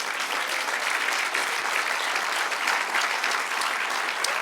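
A church congregation applauds during a pastor's sermon, producing close, continuous, even clapping that stays level throughout, with no speech over it.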